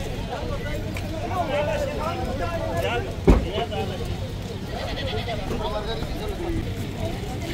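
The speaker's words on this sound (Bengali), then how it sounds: "পিকআপের মধ্যে তোলা হচ্ছে খাসিগুলা।" Goats being loaded onto a pickup truck bleat intermittently amid talking voices and handling noise, with a sharp knock partway through as the animals are lifted aboard.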